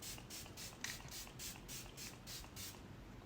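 Repeated short hissing bursts of e.l.f. All Night Microfine Setting Mist being sprayed, about eight quick pumps in a steady rhythm, close and soft.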